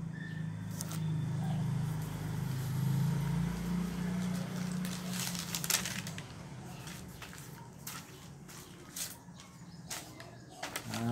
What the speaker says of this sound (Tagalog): Sensya po kayo kung may maingay na tricycle kasi malapit kami sa kalsada.